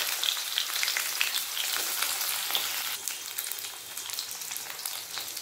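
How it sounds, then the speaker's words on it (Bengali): Pieces of bitter gourd fry in hot mustard oil, giving a steady close crackle and hiss with scattered pops and a few soft stirs, fairly quiet and without any talking. "তেল গরম হয়ে গেছে, এরপর করলাগুলো আগে ভেজে নেব।"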